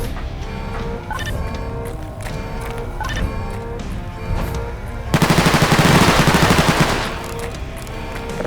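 Video game gunfire in Garry's Mod on an SCP roleplay server: a rapid automatic burst of loud shots arrives after several seconds of busy mechanical clatter and tones.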